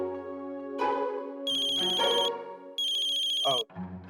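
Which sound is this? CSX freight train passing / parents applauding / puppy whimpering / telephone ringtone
telephone ringtone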